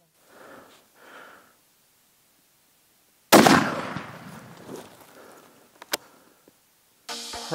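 A single loud rifle shot fired at a deer during a hunt: one sharp, close blast with a quickly fading echoing tail, followed by a few faint clicks and rustles. Quiet low talk comes just before.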